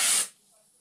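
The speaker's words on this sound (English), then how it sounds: "don't worry about how much spray you're using" Dry shampoo aerosol sprayed onto a grey ombre lace front wig: a single loud, close hiss lasting about a quarter second, then cutting off to quiet.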